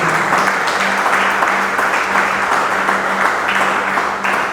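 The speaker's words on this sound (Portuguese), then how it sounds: "Aplauda o nome de Jesus" A church congregation applauds during a service, loud dense clapping sustained evenly across the room, with a faint steady hum from the sound system underneath.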